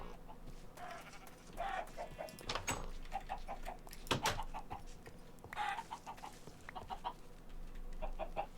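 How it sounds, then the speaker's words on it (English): Chickens cluck in a farming video game, repeated short clucks and squawks in small bursts over a low ambient backdrop, fairly quiet throughout with no talking. "All the chickens are living in the water."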